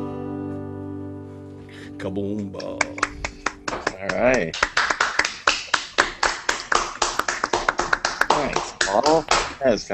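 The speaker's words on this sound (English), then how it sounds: "That was real clapping." An audience claps in real applause during a stage show, a dense patter of many hands building after a quiet start and mixed with voices.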